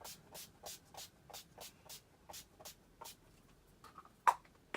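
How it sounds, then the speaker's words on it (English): Urban Decay Chill makeup setting spray misted in a series of about a dozen short, evenly spaced hissing pumps, close and soft, followed by a faint click and small handling sounds. "I'm gonna go ahead and apply this Urban Decay Chill Spray, just so all the products can melt into the skin"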